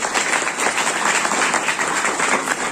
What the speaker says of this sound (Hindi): उनके लिए तालियां भी बजाएंगे